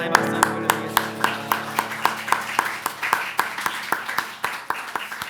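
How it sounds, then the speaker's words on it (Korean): A church congregation claps in thanks to God during a Sunday worship service, a steady rhythmic beat of many hands that stays loud and even for several seconds. "주님께 감사의 박수 한번 올려드리겠습니다"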